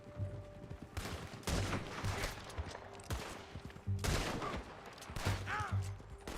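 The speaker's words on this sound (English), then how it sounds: "Shoot that bastard already." Gunfire in Red Dead Redemption II: repeated loud rifle and pistol shots in bursts with mechanical clicks and creaks between volleys, close and prominent.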